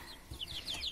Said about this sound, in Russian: подрастающие курочки.